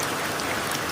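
Rain falls steadily in the Amazon rainforest, a dense, even patter of drops that stays constant and close throughout with no voices.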